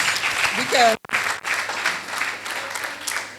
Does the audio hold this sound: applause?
yes